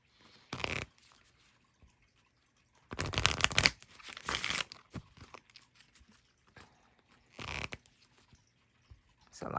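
A deck of tarot cards being shuffled by hand in a few separate bursts of crisp riffling, close and fairly quiet, with short pauses of near silence between them.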